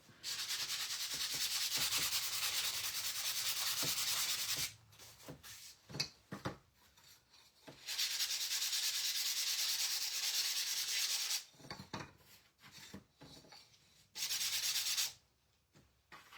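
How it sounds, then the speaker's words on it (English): Wooden farmhouse coasters sanded by hand, a steady close rasping scrub in three long bursts separated by short pauses with light knocks and handling. "I am going to sand these real quick."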